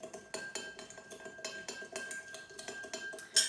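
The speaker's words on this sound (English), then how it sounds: "Then I'm just going to stir very quickly just to dissolve the sugar" A spoon stirs quickly in a cocktail glass to dissolve sugar, giving a steady run of light metallic clinks and swishes, close and fairly quiet, with no voices.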